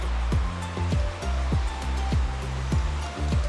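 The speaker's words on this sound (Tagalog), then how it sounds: "Golden Waterfall" Steady rushing roar of Golden Waterfall in Taiwan, a broad continuous wash of falling water heard up close, with a few brief knocks and thumps over the top and no talking.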